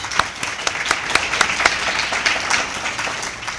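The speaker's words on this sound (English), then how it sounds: "Another round of applause for Ron." An awards banquet audience applauds for Ron, a dense wash of many hands clapping at once, with a few sharper individual claps standing out, moderately loud and continuous throughout.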